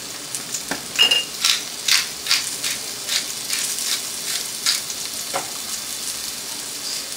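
Vegetables sweat with salt in a hot pot for beef stew, giving a light, steady sizzle. Spoon scrapes and soft clinks of stirring come up repeatedly across the clip, close by, and no one talks.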